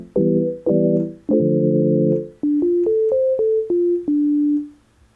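A synth patch on a Yamaha MODX set with operator 1 modulating operator 2, playing three sustained harmonic-rich chords followed by a short sequence of brighter single notes, each with a sharp attack, ending in a fading final tone.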